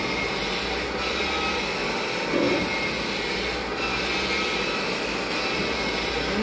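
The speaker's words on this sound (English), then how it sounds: "Now he's vacuuming." A vacuum cleaner runs continuously while a house is cleaned, a steady loud whining drone with no break and only faint knocks beneath it.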